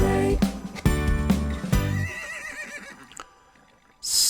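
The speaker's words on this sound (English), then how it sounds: "Cinnamon is a special horse." A horse gives a loud, drawn-out neigh with a shaky, quavering pitch that fades into quiet, then a burst of hissing noise cuts in at the end.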